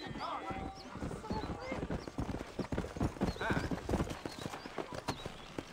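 Horse hooves clip-clop in a steady gallop in the video game Red Dead Redemption, with a brief whinny, and someone talks over the hoofbeats.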